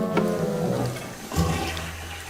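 A shower breaks in The Sims 3 and water gushes out in two short, splashing bursts, close and moderately loud against a quiet background.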